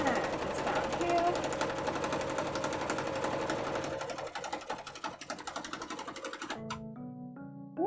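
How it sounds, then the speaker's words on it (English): A home sewing machine runs loudly and close, stitching cosplay fabric seams in a fast continuous mechanical chatter that slows and stops near the end, leaving a few brief tones. "maybe I'm just not used to hearing my machine be this loud, but it does feel heckin' loud today"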